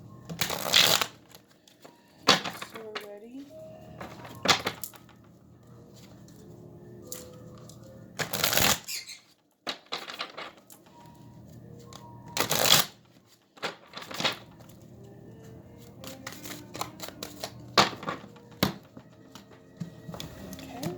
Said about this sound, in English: I'm going to go ahead and shuffle these.